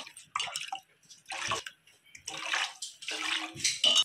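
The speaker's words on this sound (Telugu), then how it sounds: "సో 8 కప్స్ వాటర్ వేసుకున్నాం" Water poured into a cooking pot for rice, a series of four or five gushing splashes separated by short pauses, close and fairly quiet, with no talking.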